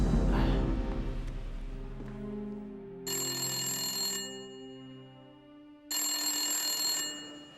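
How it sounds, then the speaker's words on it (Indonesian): A telephone rings indoors, two loud electronic ring bursts separated by a short pause, clear and close, with no talking over them. "Jangan-jangan itu telepon tentang Flora."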